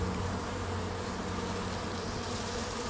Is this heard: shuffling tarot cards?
no